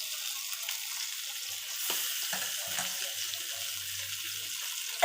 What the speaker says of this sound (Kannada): ನೋಡಿ ವೀಕ್ಷಕರೇ, ಫಿಶ್ ಫ್ರೈ